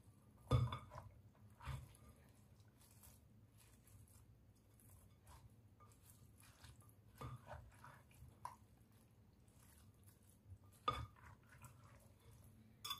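Chana chaat being tossed in a bowl with tamarind sauce and mint. A spoon scrapes and clinks against the bowl at intervals over faint background, with a few sharper knocks and no speech.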